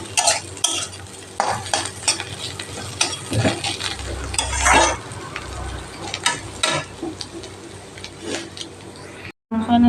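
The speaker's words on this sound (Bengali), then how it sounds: "ভাজাটা এখানে হচ্ছে।" A home pan of food frying and being stirred, with sizzling throughout and repeated scraping strokes of a spoon, loud and close, with a voice talking briefly over it.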